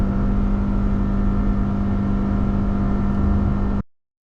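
A 2023 Kia Soul accelerates with a loud, steady engine drone and road roar that holds level for nearly four seconds, then cuts off abruptly into silence.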